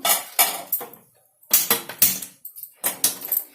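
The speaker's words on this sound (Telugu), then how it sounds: "నేను ఈ పక్క స్టవ్ పెడతాను ఈ గిన్నెను." A metal cooking pot set onto a stove while preparing masala vangi bath, a series of close, sharp clanks and clatters in irregular bursts with brief pauses between them.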